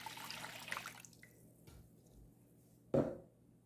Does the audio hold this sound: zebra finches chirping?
no